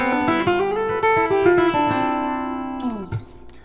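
Open-string guitar lick in fifth position with hammer-ons, quick plucked notes climbing up and then coming back down and ringing together, played clean and close with no talking.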